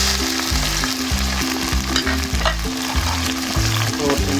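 Onion, tomato, green chili and ginger garlic paste sautéing in a pan, a loud close sizzle broken by rhythmic scraping strokes of a spoon stirring, with no one talking.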